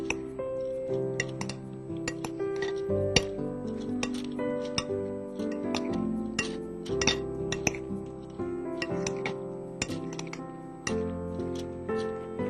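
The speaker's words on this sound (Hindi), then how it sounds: "ये सारे फ्रूट्स को मिक्स करेंगे।" Fruits mixed with lemon juice in a bowl, with repeated light clinks and taps of a utensil against the dish in an uneven rhythm, close and fairly quiet over a soft musical background.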